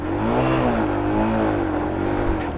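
A motorcycle engine revs and strains on a rough, rocky mountain track in Himachal's Spiti region, a loud, close, continuous drone whose pitch rises and falls in waves as the throttle is worked.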